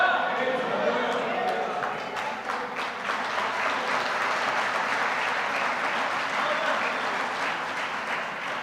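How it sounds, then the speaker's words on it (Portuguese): A church congregation at a family worship service claps and cheers, a continuous dense roar of applause with shouts mixed in, loud and steady throughout. "vocês não precisaram do meu estímulo para aplaudir o Senhor, e nem para fazer uhul"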